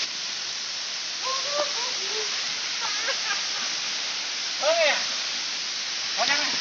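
Panari waterfall in the Chhattisgarh jungle rushes as a loud, steady broadband roar that fills the clip, with a few faint voices and calls rising briefly over it.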